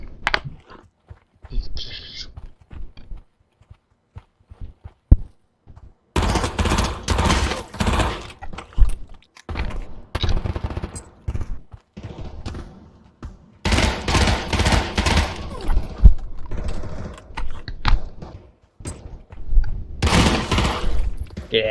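An MP5 fires in the Pavlov VR shooting game, rapid bursts of automatic gunfire in several loud clusters separated by quieter gaps, with a voice speaking in between.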